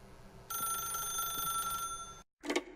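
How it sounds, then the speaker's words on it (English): A telephone rings in the video game The Stanley Parable, a steady electronic bell trill lasting under two seconds, then cutting off before a brief second burst. "then pick up the phone."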